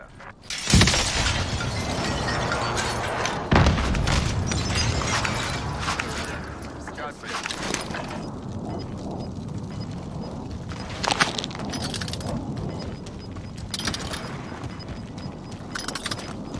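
Video-game airstrike explosions: two sharp, loud blasts early on, each followed by rumbling, crackling debris, then smaller bursts later, with voices talking intermittently over the noise.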